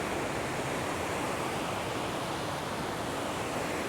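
Big surf waves break on a beach in a continuous broad roar of wash and spray, steady and fairly loud throughout with no voices.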